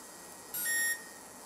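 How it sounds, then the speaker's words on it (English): A single electronic confirmation beep from an ESC programming card, a steady high tone lasting about half a second, close and clear against a quiet background. "press the enter button and the alarm will sound, which tells me that the ESC program"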